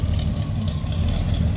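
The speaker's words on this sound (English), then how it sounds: "Slip around so you can hear that 326 rumble." A 1966 Pontiac LeMans convertible's 326 V8 idles with a steady, close low rumble, even and continuous throughout with no voices.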